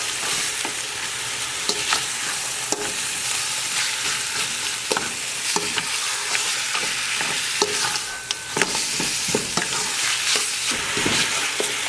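Khmer coconut milk soup being stirred in a pot, a continuous sizzling bubble with repeated scraping and clinking strokes of the utensil, close and steady with no talk.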